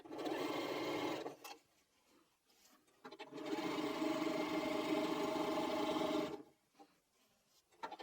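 A sewing machine stitching quilt block pieces together runs in two bursts, a short one then a longer steady whirring run of about three seconds, with quiet handling pauses between.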